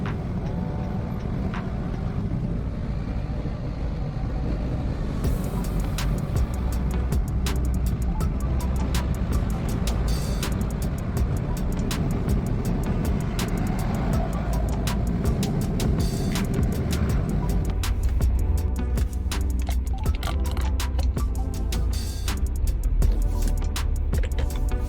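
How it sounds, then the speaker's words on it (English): A car drives along Yonge Street, with steady engine and road rumble from inside the cabin throughout and a deepening low drone toward the end, with no talking. "I exited on Yonge, so I'm driving on Yonge right now."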